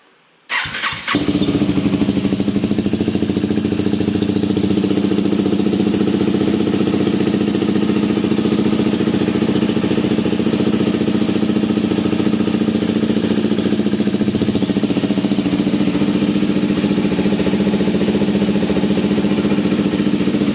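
A KTM Duke 250 or Yamaha MT-03 motorcycle fitted with an exhaust silencer insert starts after a brief pause, then idles loud, close and steady with a deep rumbling exhaust note.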